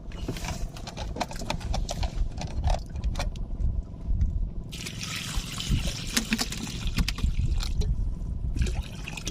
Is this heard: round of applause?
no